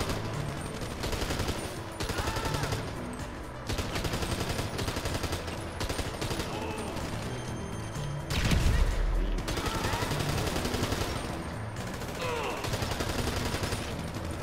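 Nonstop gunfire crackles in Grand Theft Auto V, dense overlapping shots from several weapons in a chaotic firefight, with a heavier thud near the middle and game noise running throughout.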